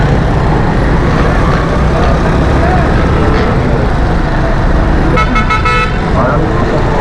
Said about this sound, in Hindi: यहाँ हमें पीछे से बाजे की आवाज़ आई